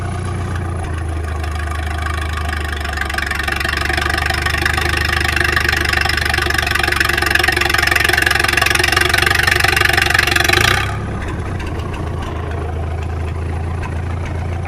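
A car engine in fourth gear strains against the brakes in a loud, sustained roar with a low rumble, holding steady for about ten seconds before it suddenly drops back to a rougher, quieter idle; no one talks.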